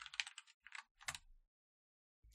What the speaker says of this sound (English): I can hear Jade typing also.